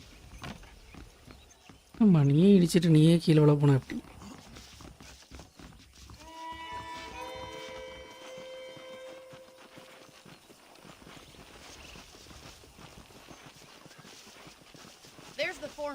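Horse hoofbeats clip-clop in the Western video game Red Dead Redemption, with a whinny near the start and game music, while someone speaks over it.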